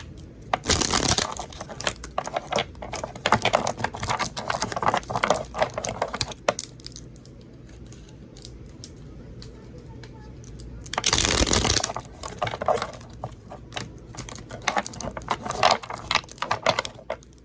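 Tarot cards riffle and slap in two bursts of shuffling, close up, with a quiet pause between them.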